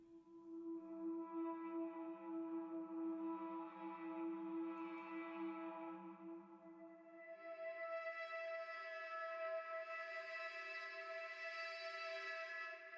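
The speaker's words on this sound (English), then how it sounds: "Next instrument I added is somewhat like a pad / background noise," A soft, sustained synth pad from Ashlight drifts as a hazy background texture, swelling slowly and brightening midway, quiet and smooth throughout.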